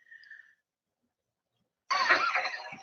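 A man without a mask coughs once, a short harsh burst following a near-silent pause after a faint tone.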